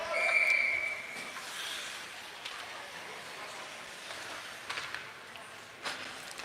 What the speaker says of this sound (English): We get the whistle with 8:23 left to go in the first.